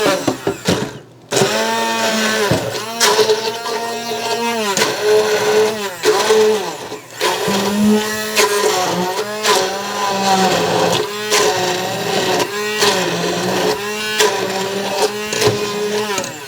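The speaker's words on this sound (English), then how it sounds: "now I'm just going to use a hand blender" A hand blender whirs loudly and steadily through an apple mixture, its motor pitch dipping and rising repeatedly as it is pushed through, with no voices.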